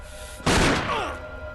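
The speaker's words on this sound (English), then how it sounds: "I'm sure I heard a gunshot just now." A single sharp gunshot rings out in the Resident Evil REmake video game, a sudden loud crack followed by a booming, reverberant tail that fades over about a second.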